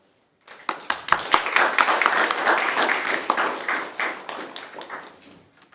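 An audience claps after a talk on central banking, starting abruptly with sharp individual claps that swell into full applause, then gradually thin out and fade.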